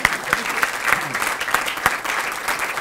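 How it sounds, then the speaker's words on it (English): Audience applause for a senator at a governor's legislative bill signing, a steady crackle of many hands clapping throughout at moderate loudness. "Let's hear it for Senator Hanger, if we could"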